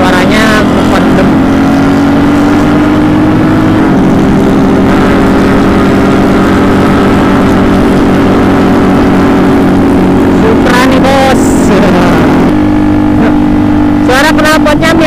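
Suzuki Satria FU motorcycle with a modified engine, idling and revving through a CLD C1 aftermarket exhaust with a 38 inlet and silencer, giving a muffled, scooter-like drone; loud and close, with several sharper revs near the end.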